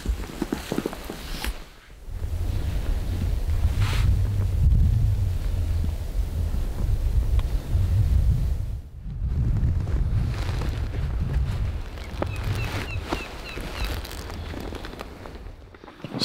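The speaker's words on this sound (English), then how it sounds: "So the wind's blowing this way." Gusty wind blows outdoors on a hunting trip, a steady low roar buffeting the microphone with brief lulls and rising gusts.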